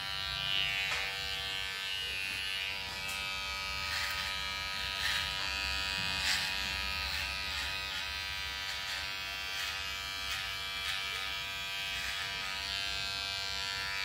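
An electric hair clipper buzzes steadily and close up while finishing the neckline of a men's haircut, a continuous droning hum with small shifts as it moves along the skin.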